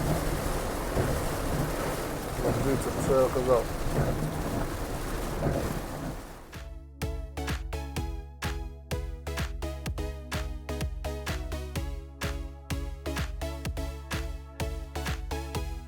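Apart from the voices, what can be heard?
heavy rain downpour with thunder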